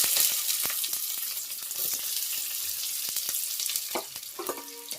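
Onions frying in oil for chicken biryani give a steady close sizzle and crackle, with scattered clicks and scrapes from stirring throughout and no talking.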